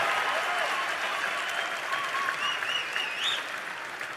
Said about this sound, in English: can we give our friends in law enforcement a round of applause